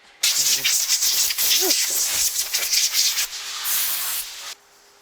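Close, steady rasping of 150-grit sandpaper scrubbing back and forth on a wooden electric guitar neck, a dense hissing scratch that stops abruptly near the end.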